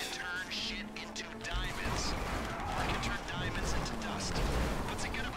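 Gunfire in GTA V: bursts of shots and impacts crackle repeatedly in the background while players talk over them.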